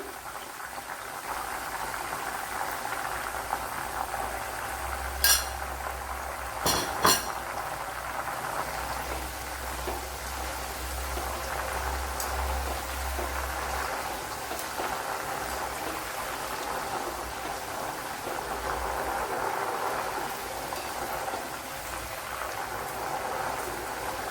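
Jackfruit chips frying in oil with turmeric and salt water, a steady bubbling, crackling sizzle that holds evenly throughout, with a couple of brief sharp clinks partway through.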